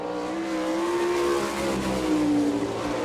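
A sprint car engine screams through a qualifying lap at a dirt track in Abbottstown, Pennsylvania, a loud sustained high-revving drone with shifting pitch and no talking.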